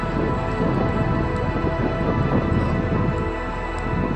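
Rain pouring steadily on an afternoon at a farm, a dense broadband hiss with low rumble that stays loud and unbroken throughout, no voices.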